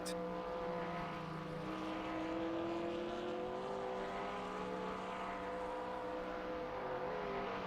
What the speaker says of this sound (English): So I can hear something revving out somewhere up at turn 1.